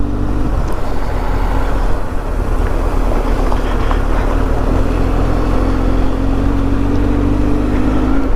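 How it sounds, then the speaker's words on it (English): A Hero Xpulse motorcycle rides alongside on the Mandalpatti off-road trail. Its engine drones loud and close without a break, and the pitch creeps slowly upward. "There's an Xpulse coming alongside."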